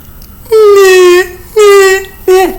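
A voice imitates a whining baby as a vocal resonance exercise, giving two long, nasal, steady-pitched whines and then a shorter one that bends downward at the end. The sound is loud and close.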